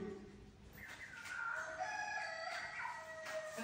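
A chicken clucks and a rooster crows outdoors at a farmyard in Mozambique, a drawn-out, moderately near crow rising over softer clucking, with no talk.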